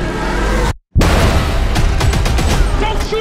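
Heavy gunfire and booming blasts from an action movie trailer, loud and dense, cut by a brief dead silence and then a burst of rapid shots and impacts.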